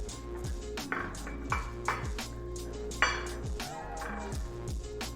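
A cutter presses through bread slices to make rounds, giving a few soft thuds and light metallic clinks at uneven intervals over a steady background hum, with no talking.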